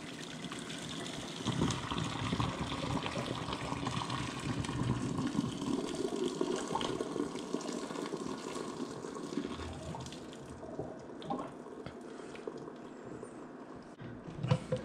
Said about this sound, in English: Okay, we're draining the water out there